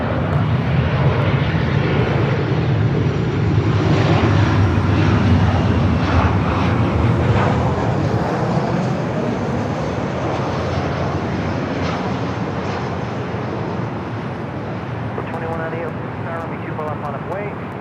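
Airliner rolling down runway 24 left at Los Angeles International Airport, its engine roar loud, broad and steady throughout, easing slightly toward the end.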